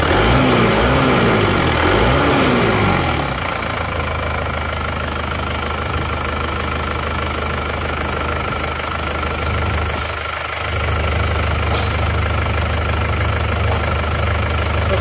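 An Isuzu Panther Touring diesel engine runs at idle after its pressure was adjusted, a steady low rumble with a fine rhythmic knock, loud and close, briefly rougher at the start before settling evenly, with no voices.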